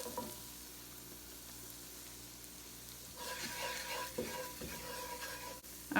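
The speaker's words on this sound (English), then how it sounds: "Just mixing it in with the butter." Flour being stirred into melted butter in a pan, a quiet scraping and soft sizzling that starts partway through after a near-silent stretch, with a few louder knocks of the utensil near the end.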